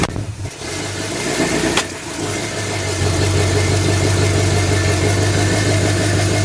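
A Chevy S10 with a small block V8 idles close by, a loud, steady low rumble that settles into an even drone after a brief rev near the start.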